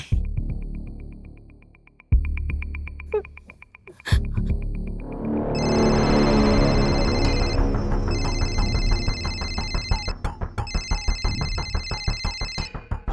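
A phone rings inside a house in a crime drama scene, a repeating electronic ringtone that pulses in bursts over music and dramatic sound.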